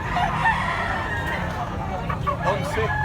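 A rooster crows among several chickens in a noisy outdoor yard, its calls mid-distance and mixed with chatter and background murmur.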